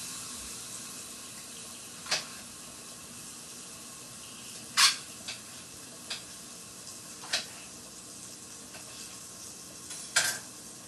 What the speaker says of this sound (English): you will hear the sizzle, so you know that it's cooking